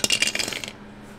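Dice rolling and clattering on a hard surface during a Lion King themed roll-and-save game, a quick run of close, bright rattles lasting under a second before settling into quiet.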